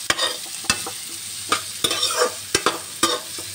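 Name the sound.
onion and capsicum frying in a pan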